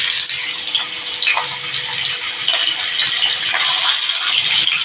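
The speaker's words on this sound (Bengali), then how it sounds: "কড়া গরম হয়ে গেছে, চিকেনগুলো দিয়ে দিচ্ছি।" Small chicken pieces fry in very hot oil in a wok, giving a continuous close crackling sizzle with scattered sharp pops and no voices.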